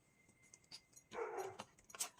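A few short dog barks and yips, faint and somewhat distant inside a busy family home with three dogs, heard as brief scattered bursts.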